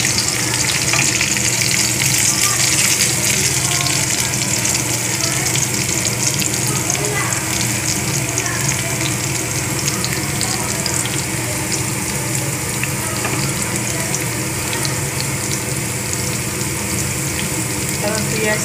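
Pomfret fish frying in a pan, a steady dense sizzle with crackling oil running throughout, close and fairly loud, with faint stirring and a watery hiss beneath and no talk.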